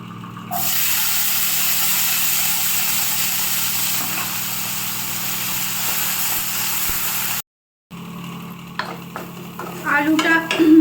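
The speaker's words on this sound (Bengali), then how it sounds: "শুকনো লঙ্কা কালো জিরে আর দুটো কাঁচা লঙ্কা ফোড়ন দিয়ে দিয়েছি" Dry red chilli, nigella seeds and green chillies tempering in a small amount of hot oil in a pan, a steady close sizzle and hiss that runs unbroken, briefly cuts out, then resumes with some clinks and a voice.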